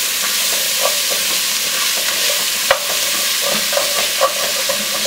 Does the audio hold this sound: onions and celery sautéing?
yes